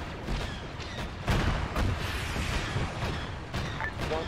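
Grenades burst in a sci-fi desert battle in the military game Arma 3, as clone troopers fight droid armies. Several dull booms and cracks come through a constant wash of gunfire, with faint voices in the background.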